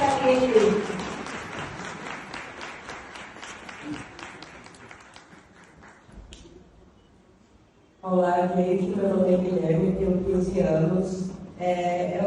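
Applause from an audience at a congress on autism inclusion, broadband clapping starting loud and gradually fading over several seconds, followed by a voice speaking over music-like tonal sound.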